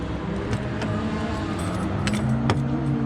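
Keys jangling and soft clicks as a car is locked up at a drift event, close and brief over a steady hum of engines running nearby.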